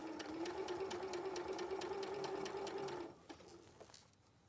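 A sewing machine stitches round a binding in a fast, steady mechanical chatter that runs for about three seconds, then stops, leaving a few faint knocks.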